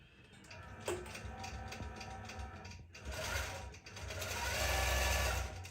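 An embroidery sewing machine stitches out a mermaid tail pattern, a fast steady mechanical chatter of needle and gears with clicks and a rising whir, close and loud with no voices.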